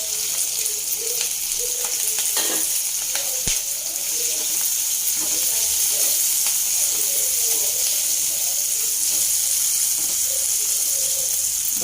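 Chopped onions frying in a pan for palak paneer give a steady broadband hiss of sizzling oil that runs unbroken throughout, with a few faint clicks and no talking.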